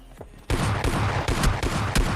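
Rapid bursts of automatic gunfire from the mobile battle royale game PUBG Mobile, starting abruptly after a quiet moment and rattling on loud and dense, with several sharp shot clusters punctuating the continuous fire.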